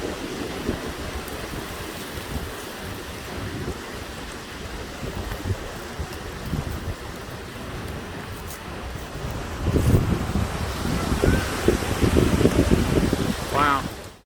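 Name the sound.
wind blowing outdoors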